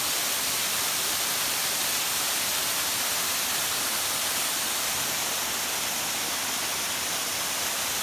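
A waterfall on a creek in Lamington National Park pours in a steady, dense roar of white water, loud and close, unbroken from start to finish.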